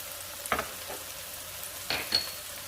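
Garlic and other ingredients sauteing in a pan for a creamy pastalaya with smoked paprika, a faint steady sizzle broken by a few brief louder stirring scrapes, with no one talking.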